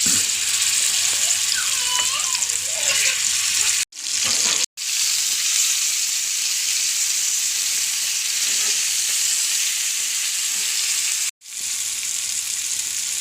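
Fish frying in hot oil in a pan gives a loud, steady, close sizzling hiss that drops out in a few brief gaps.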